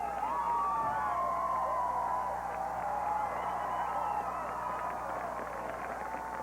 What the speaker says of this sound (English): Very enthusiastic crowd, as you can hear.